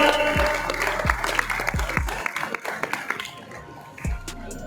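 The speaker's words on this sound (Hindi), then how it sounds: "भरपूर ताली होनी चाहिए शफकत जवेद साहब हैदराबाद से" Applause at a Quranic calligraphy exhibition award ceremony, scattered clapping mixed with hall noise and low thumps, thinning out toward the end as a voice carries faintly underneath.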